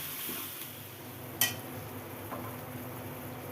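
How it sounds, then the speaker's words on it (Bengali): Masala for cashew chicken being stirred and fried in a pan, a low steady sizzle with a sharp utensil scrape or clink near the middle and a softer scrape later. "শুধু এসব দিয়ে নাড়াচাড়া করতে ভালো করে মশলাটা কষিয়ে নিতে হবে"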